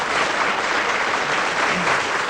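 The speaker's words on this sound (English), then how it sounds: "That wasn't applause for you, Terry, it was for the act." Studio audience clapping for a talent show act in 1978, a thick, even burst of many hands lasting a couple of seconds, loud and without speech.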